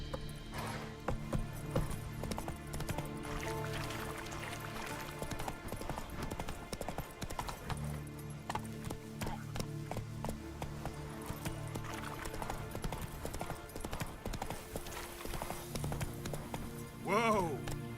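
Hoofbeats of Geralt's horse Roach in The Witcher 3: Wild Hunt, a rhythmic clip-clop of galloping hooves running under game music, with a voice speaking over it.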